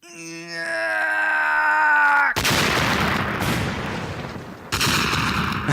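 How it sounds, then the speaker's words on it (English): Multiple explosions in an action film roar out one after another, loud and close, with a broad booming rumble that follows a sustained tonal swell and fades into echoing debris. "Multiple explosions."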